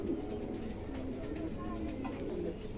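Pigeons coo steadily in a pigeon market among birds for sale, low rolling calls continuing through the clip with faint background murmur.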